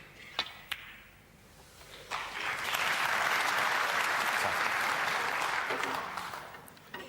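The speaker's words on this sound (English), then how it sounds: "The crowd here at the Wembley Conference Centre are enjoying." Snooker crowd at the Wembley Conference Centre breaking into loud, sustained applause after a couple of sharp ball clicks, the clapping swelling for several seconds and then fading, with a commentator's voice faintly underneath.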